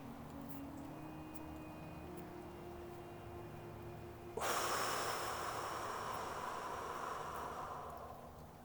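A slow breath drawn in during a meditation exercise, faint at first, then a loud sustained airy inhale that starts suddenly midway and holds, gradually fading.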